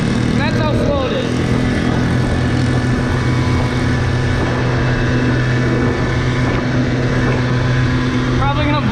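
A 90cc pit bike engine runs flat out during trail riding, a steady loud droning buzz held at full revs for the whole stretch, close to the rider with wind noise and no clear pauses.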